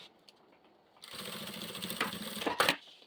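A sewing machine stitches crystal-clear plastic using a teflon presser foot, starting after a quiet moment with a close, steady rapid whirring run of stitches for about two seconds before stopping.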